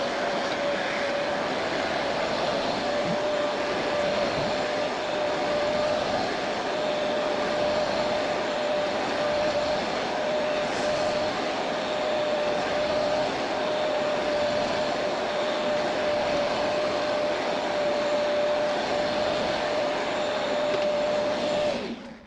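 A Bissell TurboClean PowerBrush Pet carpet cleaner runs continuously on carpet, giving a loud, steady motor whine with a constant high tone and broadband suction roar that hardly changes before cutting off at the end.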